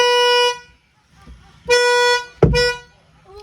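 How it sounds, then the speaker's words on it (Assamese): The horn of a 2015 Volkswagen Polo petrol car gives three loud, close, bright honks. The first two are held for about half a second, and the third follows almost at once. "হৰ্ণটো শুনক"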